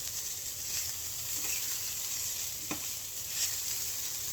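Steady sizzling of rice and tomato frying in a pan for Salvadoran-style fried rice, a continuous bright hiss with a few soft crackles and stirring scrapes, close by, no talking.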